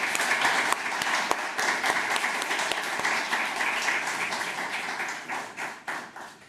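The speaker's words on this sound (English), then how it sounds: "Please join me in a round of applause for our amazing panelists once again." An audience applauds panelists at an Emirati Women Achievers event, with dense steady clapping and a few sharper claps that thin out and fade toward the end, with no talk over it.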